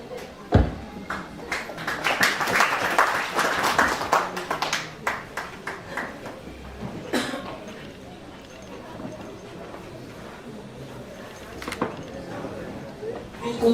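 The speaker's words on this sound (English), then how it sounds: "Can we give Rashad a very organized clap?" An audience claps after a presentation at an agritourism symposium on a farm, a burst of dense applause that thins into scattered, loosening claps. A voice speaks over it at moments.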